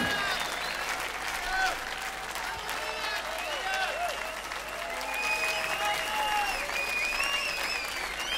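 Concert audience applause after a jazz-fusion band performance, steady and fairly faint, a continuous wash of clapping with crowd voices and a few whistles throughout.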